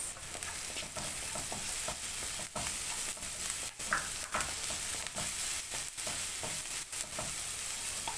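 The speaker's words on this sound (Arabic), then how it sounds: "هنزل بالفلفل تشويح بس كده يا حبايبي" Peppers are sautéed in a pan, a constant close sizzle broken by frequent sharp scrapes and knocks of a spatula stirring them.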